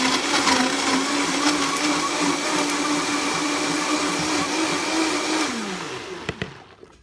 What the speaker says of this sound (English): It says to put the liquids in and blend them up for 1 minute first